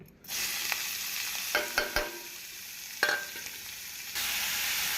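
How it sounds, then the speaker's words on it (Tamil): Chopped onion and green chilies sauté in oil in a kadai for onion uttapam, a steady close sizzle broken by several clattering stirs and scrapes of a spatula, with no speech. "கடாயில் எண்ணெய் விட்டு நறுக்கிய வெங்காயம் பச்சை மிளகாயை வதக்கி கொள்ள வேண்டும்"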